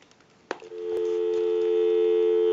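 A steady dial tone on a Western Electric 302 rotary desk telephone with a metal case starts after a soft click of the handset and holds loud and even to the end.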